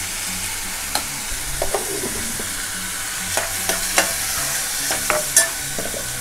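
Onion and tomato with turmeric and salt are sautéed in a pan. A close, steady frying sizzle runs throughout, punctuated by irregular clinks and scrapes of a spatula against the metal.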